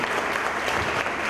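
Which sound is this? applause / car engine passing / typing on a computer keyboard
applause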